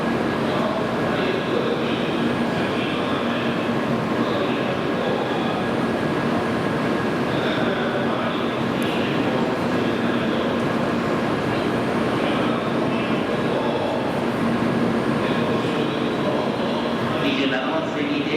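Shinkansen Nozomi train standing at a Shin-Osaka station platform, a steady loud hum of station and train machinery with platform announcements spoken over it throughout.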